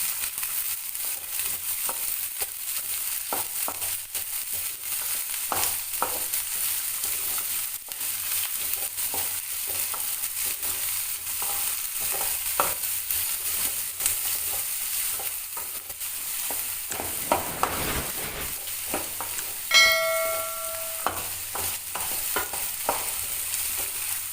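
Green peas are stirred into egg fried rice in a home kitchen pan, giving soft scraping and shuffling strokes over a faint sizzle, with a brief clatter near the end and no talking.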